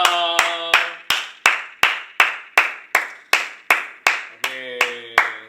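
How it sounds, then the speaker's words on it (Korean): Clapping at a church youth worship service, a steady, rhythmic run of about fifteen sharp claps, close and loud, with brief voices or tones at the start and near the end. "우리 주님께 영광의 박수 올려드립시다"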